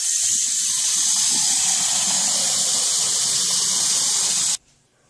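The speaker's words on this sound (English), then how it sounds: "So I'm going to take a pot, and then I'm going to fill it up with water." Cold water rushes loudly and steadily into a pot for several seconds, a bright, close hissing stream that stops abruptly at the end.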